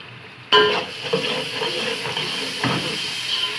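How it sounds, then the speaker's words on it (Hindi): Ginger-garlic paste hits hot oil with softened onions in a pan, bursting into a loud steady hiss and sizzle that continues with a second surge as it is stirred. "अब इसमें 2 टेबल स्पून भर के लहसुन अदरक पेस्ट डाल दिया है"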